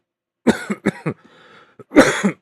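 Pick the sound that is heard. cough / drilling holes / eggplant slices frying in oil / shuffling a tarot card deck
cough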